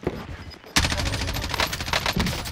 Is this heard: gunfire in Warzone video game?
yes